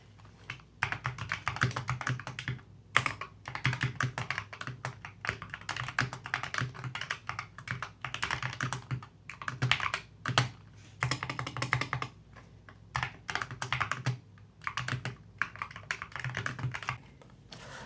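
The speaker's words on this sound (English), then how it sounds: "Here is a typing sound test." Keys clacking on a Keychron K2 HE mechanical keyboard in quick bursts of typing, close and fairly quiet, with short pauses between runs of keystrokes.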